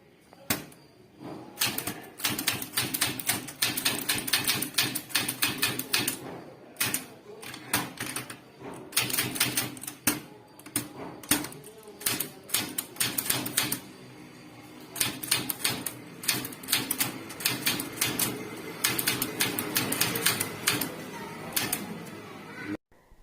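Manual typewriter being struck in a steady, rapid rhythm during a basic typewriting lesson on typing a letter, loud and close with dense clacking keystrokes and brief pauses, with faint talk now and then.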